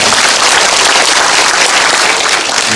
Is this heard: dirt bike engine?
no